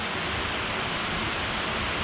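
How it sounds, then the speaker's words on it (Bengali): Steady rain falls outside during a train journey in India, a broad, even hiss of constant loudness with no talk over it. "বাইরে বৃষ্টি হচ্ছে"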